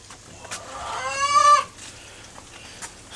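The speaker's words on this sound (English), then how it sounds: "now that I have the water fixed for in this chicken coop, all the chickens that were over here, there's like 20 of them, now I got them in here." A chicken in a coop holding about 20 birds gives a single drawn-out cluck-squawk, close and clear, with faint clucks and rustling around it.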